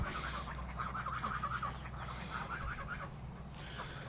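Chickens in a self-sustaining backyard garden give soft, murmuring clucks in short runs, low and moderately close over a steady outdoor hum, with no one talking.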